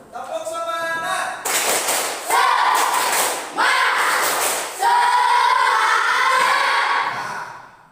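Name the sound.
audience doing rhythmic 'tepuk semangat' clapping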